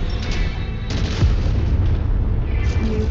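A destroyed target explodes in MechWarrior 5 Mercenaries during a city battle, a loud, sustained rumbling boom with deep low-end weight that rolls on for a few seconds, with no talk over it.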